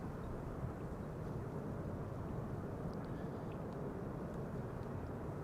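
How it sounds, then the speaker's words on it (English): An Emirates Airbus A380 airliner at Amsterdam Schiphol Airport gives off a steady, distant rumbling roar of jet engines, faint and unbroken across several seconds. "This is the Emirates A380."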